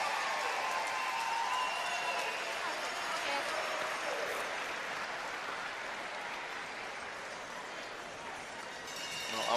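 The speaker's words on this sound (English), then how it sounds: "always tough trying to play through the roars of the crowd with the Canadian game ending" Dense crowd roar with scattered applause fills a curling world championship arena, steady and loud throughout, swelling slightly at the end.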